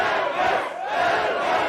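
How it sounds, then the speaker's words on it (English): A crowd at an arm wrestling match roars and cheers in a loud, continuous wall of voices, dipping briefly in the middle before surging again. "Now the crowd is cheering Ermes."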